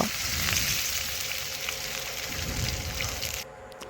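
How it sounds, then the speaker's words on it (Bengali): Fish heads fried on both sides crackle and sizzle steadily in hot oil as they are lifted out to drain, until the frying noise abruptly drops away near the end. "দুপাশে ভালোভাবে ভেজে নিয়েছি এখন আমি মাছের মাথাগুলো তুলে নেব এইভাবে তেল ঝরিয়ে তুলে নেব"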